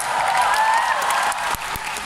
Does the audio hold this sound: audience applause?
yes